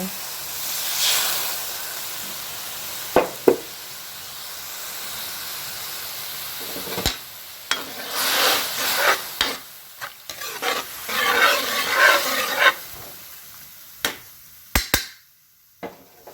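Tilapia bistek sauce of soy and calamansi boiling in a pan, a steady close sizzle and hiss broken by sharp clinks and stirring scrapes.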